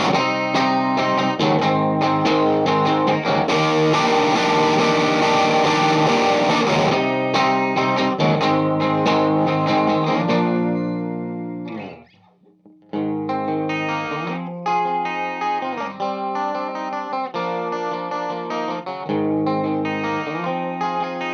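Electric guitar riffs played through an amp with distortion, chorus and other effects, loud dense chords for the first half, a brief drop near silence, then choppy rhythmic riffing resumes.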